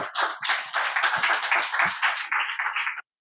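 An audience at a talk about the San Juan Moyotlán neighbourhood applauds for about three seconds, a steady, fairly close burst of clapping that stops abruptly.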